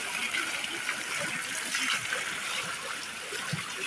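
Tap water running steadily at a drinking and ablution point in a garden in Madinah, a continuous close splashing trickle with faint background noise.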